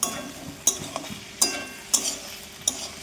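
Mixed vegetables fry in a pan over a soft, steady sizzle while a utensil stirs and scrapes them in repeated close knocks about every half second.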